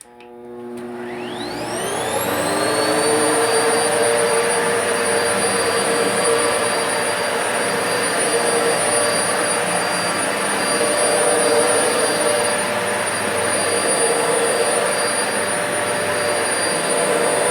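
An Electrolux Versatility upright vacuum cleaner starts up and spins to a loud, steady whining roar with a high motor tone, running continuously and close by with no talk.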